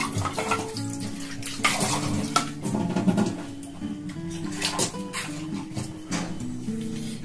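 Water rinsed from a mixer jar is poured into a bowl holding tomato and other ingredients for steamed hilsa fish, a soft splashing pour heard beneath steady background music.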